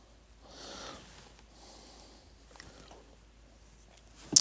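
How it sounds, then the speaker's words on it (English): A child snores in another room, two soft, drawn-out breaths sounding faint and distant over quiet room noise. "You can hear my son snoring away in the other room over there."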